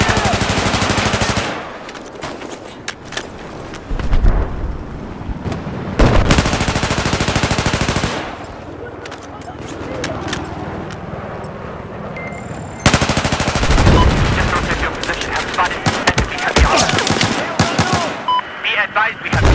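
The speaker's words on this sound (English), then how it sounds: "Machine gun." Machine gun fire rattles in long, loud automatic bursts in Battlefield 4, separated by short pauses and mixed with other battlefield noise and scattered voices.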